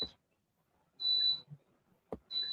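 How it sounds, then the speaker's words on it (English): An air fryer sounds two sustained high electronic beeps about a second apart, each lasting under half a second, at moderate loudness in a quiet room, with a couple of soft knocks between them. "The beeping? Beeping? Yeah. Oh, that's the air fryer."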